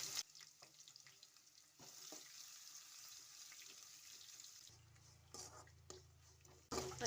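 Crushed garlic and cumin fry in a pan with a quiet, steady sizzle, broken by a few sharp clinks and stirring scrapes.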